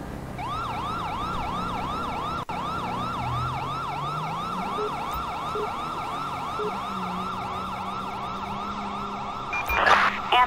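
Ambulance siren in the video game GTA 5, a steady wailing electronic siren cycling rhythmically and loud, with vehicle noise beneath and a burst of clatter near the end.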